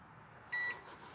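A Hamilton Beach microwave oven set up outdoors gives a single short electronic beep as its timer is set, with a quiet background and no talking.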